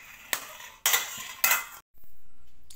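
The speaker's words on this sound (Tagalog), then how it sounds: "Durugin yan lang po ng durog na durog." Boiled sweet potato mashed with a metal utensil for molido candy, heard as three sharp clinking strikes on a bowl at a steady pace, then a quieter scraping. Close and fairly loud, with no talking.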